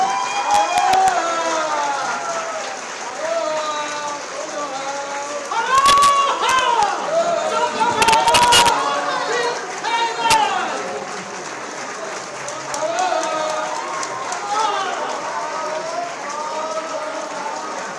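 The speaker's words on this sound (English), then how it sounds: "please all rise to give a warm round of applause to His Excellency Lai Ching-te" Audience at an overseas Taiwanese community banquet in Hawaii applauding President Lai Ching-te of Taiwan: sustained clapping mixed with cheering and overlapping voices, with a few louder bursts partway through.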